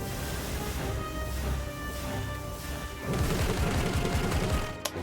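Cannon fire in Slay the Spire 2, a burst of dense crackling impacts and blasts after a tonal hum, followed by a sharp final hit.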